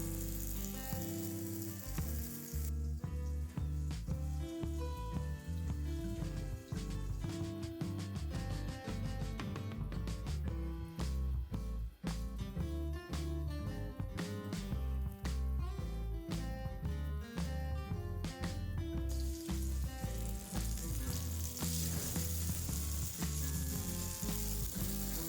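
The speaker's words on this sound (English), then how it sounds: "Time to fry. Place the kebabs in a preheated pan." Kebabs frying in a preheated pan give off a loud, steady sizzle and crackle that continues throughout, heard up close with faint clinks as pieces are placed, and nobody speaking.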